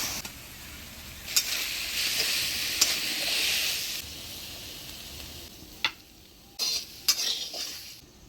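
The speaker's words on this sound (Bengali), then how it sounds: "মিশালি শাক ভাজা হয়ে গেছে, এবার নামিয়ে নিই।" Mixed leafy greens sizzle in a hot pan while being stirred, a soft frying hiss broken by sharp clinks and scrapes of the utensil against the pan.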